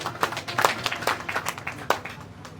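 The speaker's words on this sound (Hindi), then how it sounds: "जोरदार तालियां भाई।" Audience applause at an open mic show in a rooftop cafe, with scattered claps and a few louder bursts from a small crowd across a couple of seconds, no talk over it.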